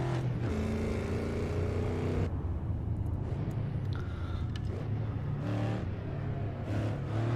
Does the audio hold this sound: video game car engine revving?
yes